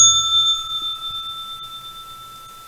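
A single bright bell rings at the stock market open, striking once and then ringing on as a long, clear tone that slowly fades.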